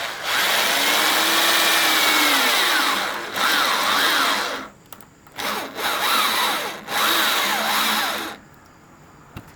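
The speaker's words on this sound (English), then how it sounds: "we're going to make a couple of additional ones just to loosen the hole up a little bit" A power drill whines loudly as it bores screw holes for a door hinge, running steadily, then stopping and restarting in a few short bursts.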